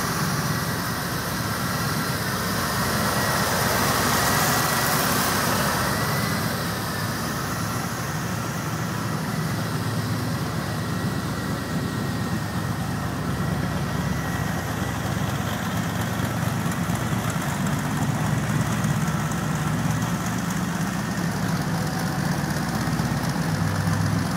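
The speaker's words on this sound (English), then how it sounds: "So I got it idling, headlights are on, compressor's turning, running smooth." A 1972 Chevrolet Corvette C3 V8 engine idles steadily and evenly with headlights on and the A/C compressor running, a loud continuous low rumble with no voices.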